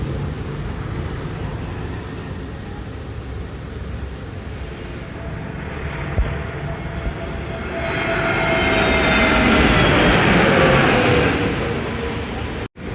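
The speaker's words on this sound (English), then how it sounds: "Now we have Indigo, oh sorry, my bad, Air India Airbus A320 neo in Vistara livery straight from Delhi" An Air India Airbus A320neo in Vistara livery passes at night, a jet roar rising out of a background hum and peaking loud before cutting off, under occasional voices.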